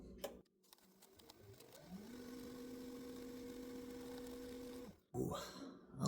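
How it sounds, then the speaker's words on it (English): Spectraply twist blank spinning on a lathe while being buffed, a steady close motor whine holding a constant pitch for a few seconds before cutting off, with clattering handling noise at start and end. "let's go ahead and buff it out"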